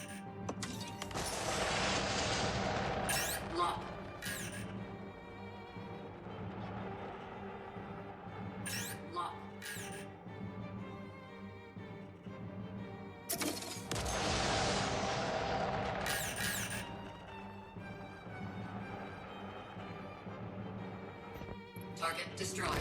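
Anvil Gladiator ship weapons in Star Citizen fire at targets in bursts, dense stretches of rapid blasts separated by quieter gaps, with someone talking throughout.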